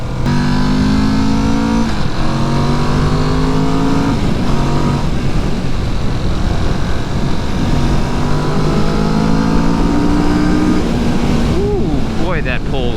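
A 2019 Kawasaki Vulcan S motorcycle engine pulls hard at wide open throttle, its tone climbing through repeated rising sweeps as gears change, loud and close over steady wind rush.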